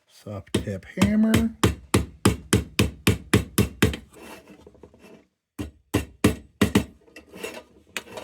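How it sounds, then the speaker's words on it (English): A soft tip hammer tapping on a part of a RAYO No. 92 cold blast lantern during restoration: a rapid series of sharp, evenly spaced blows, a short pause, then another burst of taps, close and clear. "Soft tip hammer."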